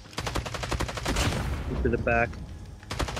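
Rapid automatic gunfire in Call of Duty Mobile, dense sharp repeated shots in quick bursts, close and loud, with a short pause before firing resumes, while players talk over it.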